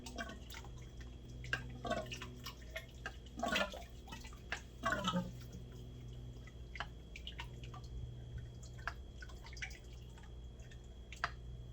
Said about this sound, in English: I can just dump the oil into my oil catch